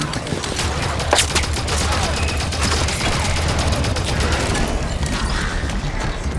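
Dense, rapid gunfire from a Halo 5 Guardians firefight against armored Knights: a continuous rattle of automatic shots and bursts that stays loud and close throughout, layered over a low rumbling game soundtrack.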